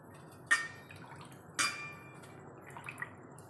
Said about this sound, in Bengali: এই যে আমি একটা হাঁড়ির ভিতর পানি দিয়েছি, এখন শাকগুলো দিয়ে দিলাম